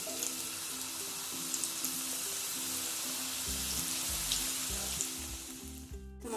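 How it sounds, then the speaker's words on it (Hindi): Chicken vegetable samosas fry in hot oil, an even, dense bubbling sizzle close by, while a faint melody plays in the background and nobody speaks. "ये हमारा ऑयल गर्म हो चुका है, तो इसके अंदर हम ये समोसी डाल देते हैं इस तरह से"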